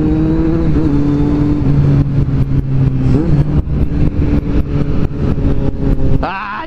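A white Kawasaki Z750 motorcycle accelerates hard through the gears, engine revving up in rising sweeps with brief shift dips, loud and close with wind noise throughout.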